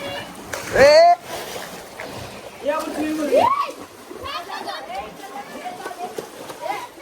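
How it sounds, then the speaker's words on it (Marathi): Children splash water nearby, with a loud splash early on and lighter sloshing afterward, under excited shouting and chatter. "ए पाणी उडवू नका रे"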